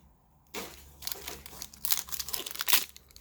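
Foil booster pack wrapper of a Pokémon card pack from a Cinderace V box crinkling and tearing open, close and fairly loud, in uneven bursts of rustle after a short quiet start.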